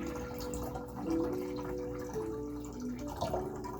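Diluted compost tea is poured into water, a soft trickling splash with faint drips, quiet and close, with no talking.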